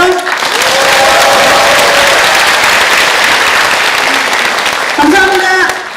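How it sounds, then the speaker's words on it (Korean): An audience claps warmly at a National Assembly policy seminar on home-based long-term care, loud and dense applause that holds steady, while a voice speaks briefly over it near the start and again near the end. "우리 모두 손 함께 서로를 위해 박수 한번 크게 쳐볼까요?"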